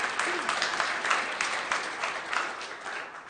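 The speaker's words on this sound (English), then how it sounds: "You guys can applaud." An audience at a city council meeting in Amarillo claps steadily in a dense patter of many hands that stays fairly even and close throughout, with no talking over it.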